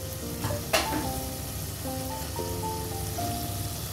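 Chicken sizzles and fries steadily in a pan as two green chillies are dropped in and stirred, a clatter near the start with a constant crackling hiss and a tonal hum underneath.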